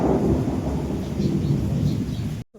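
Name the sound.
heavy rain falling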